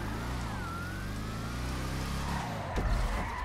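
A car in GTA Online drives with a steady engine drone and a rising whine, then a louder bump or rev near the end, with no talking.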